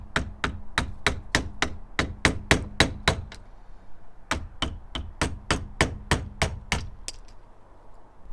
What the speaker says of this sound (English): Just place the screwdriver inside there and just give it a tap.